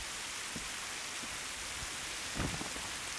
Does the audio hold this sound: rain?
yes